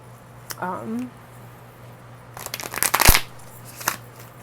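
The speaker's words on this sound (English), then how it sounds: "I'm just going to quickly shuffle these a couple times." Tarot cards are shuffled in a quick riffling burst with crisp crackling snaps, close and loud, after a brief spoken sound.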